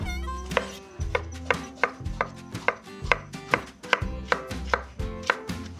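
Two tomatoes being chopped with a knife on a cutting board, about a dozen crisp, evenly spaced strikes ringing out close and clear at a steady rhythm, with no voices over them.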